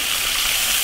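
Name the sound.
water poured into a wok of beef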